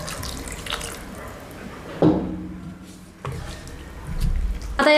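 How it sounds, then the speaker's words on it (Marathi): Water from a glass is poured into a pot of vegetables in a home kitchen, a splashing gurgle that comes in two bursts with clinks of the vessel between them, nearby and moderately loud. "सुरुवातीला मी यामध्ये 2 ग्लास पाणी घालते आहे"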